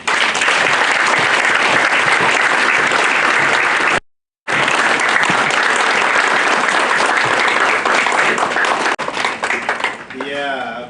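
Audience applause after a university inaugural lecture on antimicrobial resistance: dense, loud clapping fills the room, cuts out briefly, then resumes strongly before a voice begins speaking at the end.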